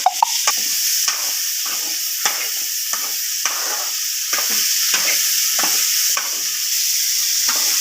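Ridge gourd and shallots sizzle in a pan over steady frying hiss while a spoon stirs them, giving about a dozen regular scraping knocks, close and loud, with no talking.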